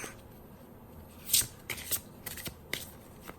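Oracle cards are shuffled for a reading, giving several quick papery riffles and flicks in short bursts over a quiet background, with no voices.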